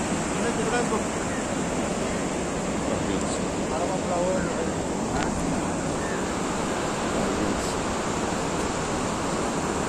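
Arabian Sea waves about five metres high crash onto the shore in a constant heavy roar, close and loud, with gusty wind buffeting the microphone throughout.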